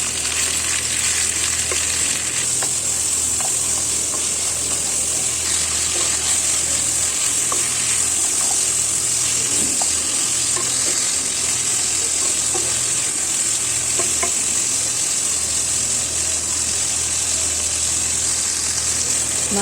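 Washed chicken pieces stir-fry with onions in a pan for a chicken stew, making a loud, continuous close-up sizzle broken by small clicks of stirring, with no voices.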